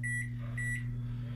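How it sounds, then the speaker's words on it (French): A microwave oven runs at full power heating a banana-chocolate cake batter, a steady low electrical hum and whirr throughout with faint high beeping tones near the start, no voices present. "nous allons mettre le mélange 1 minute 30 dans le micro-ondes à puissance maximum"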